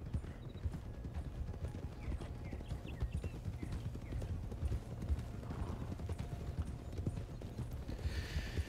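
Horse hooves clop steadily and densely in Red Dead Redemption 2, a continuous close rhythm of hoof strikes with a faint snort or whinny near the end.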